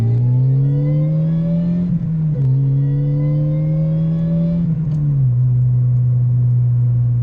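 Supercharged Toyota Yaris engine heard from inside the car under full throttle, a loud, steady rising drone through the gears with two brief dips at the shifts, no talking.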